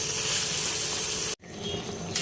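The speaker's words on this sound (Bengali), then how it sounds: "একটু লাল শাক ভাজা করছি।" Red amaranth leaves (lal shak) frying in a pan, giving a loud steady sizzle that cuts out abruptly for a moment, then returns slightly quieter.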